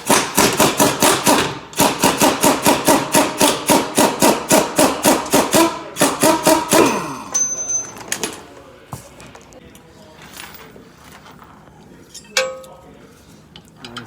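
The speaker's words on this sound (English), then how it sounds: "we are going to disconnect the end link right now so that we have more flex for the removal and installation" A wrench works a 19 mm sway bar end link nut on a 2017 Mercedes Sprinter 3500 van. Fast, evenly spaced metallic clicks run for about seven seconds, then a few sparse, quieter clinks and knocks follow.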